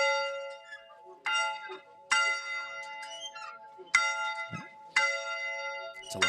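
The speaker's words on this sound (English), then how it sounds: "Again, everybody gets to ring the bell." Football players ring a victory bell after a playoff win: five loud, ringing strikes at uneven intervals, each left to decay, with faint crowd noise between them.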